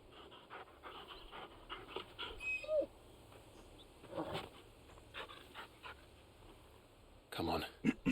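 A dog in a video game pants rapidly and lets out soft whimpers, quiet and close, with brief bursts of louder sound near the end.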